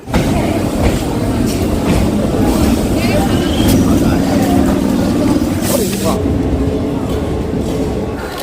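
Loud, continuous rumble of a Kolkata suburban train running on tracks toward Majerhat station, steady throughout with faint rhythmic clatter; voices can be heard talking over it.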